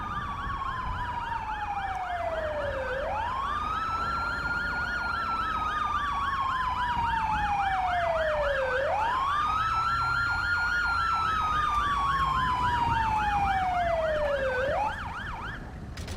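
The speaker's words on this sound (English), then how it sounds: "what they use is either the code 3Z3 siren or they use the federal signal siren." A loud police siren in a police video game wails continuously, rising and falling in long sweeping cycles with an underlying rapid yelp, heard alone without voices.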